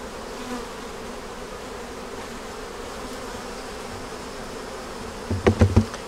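A steady drone of many agitated honey bees buzzing close by at an open hive throughout, with a few sharp knocks or taps near the end.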